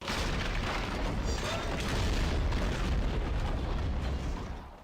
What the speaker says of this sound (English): you could even drop a giant chandelier on them